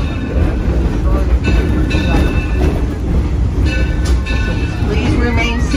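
Steady rumble and clatter of a Torch Lake tourist train riding between stations, loud and continuous from inside the car, with a faint announcement voice beneath the rolling noise.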